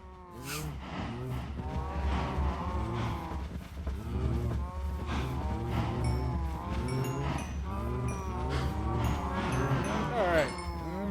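Cows moo over and over in Minecraft while they are being bred. The drawn-out, overlapping calls stay loud and close, mixed with voice-like sounds.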